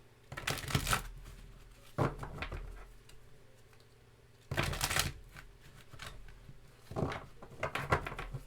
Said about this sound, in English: I feel like I want to pull some angel answer cards here for each oracle